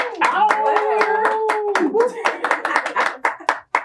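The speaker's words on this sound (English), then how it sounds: "Clap for yourself." A few studio guests clap in a small broadcast studio for a debate talk show, the sharp hand claps loud and close while voices talk over them throughout.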